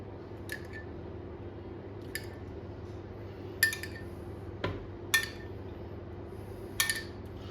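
A spoon spreads tomato sauce over pizza dough, giving a handful of short, sharp scrapes and clinks at irregular intervals over a steady low hum.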